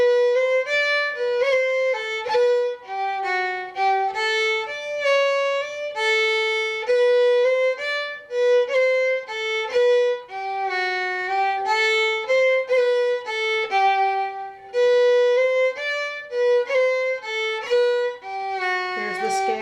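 Solo fiddle plays the B part of the tune Chorus Jig, a quick run of bright, clear bowed notes in a lively, bouncing jig rhythm, close and steady, with no talking.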